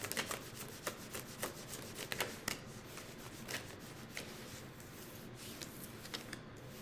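Tarot cards being shuffled by hand, a soft run of papery riffles and rubs with crisp flicks clustered in the first few seconds, then a steadier, quieter shuffling texture, close and fairly faint with no talking.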